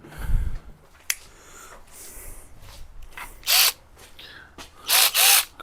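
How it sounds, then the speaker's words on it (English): A cordless power ratchet fitted during a grille upgrade on a 2011 Ford F150 whirs in a few short bursts: one near 3.5 seconds and two close together near the end, with faint clicks and handling noise between them. "Cordless ratchet."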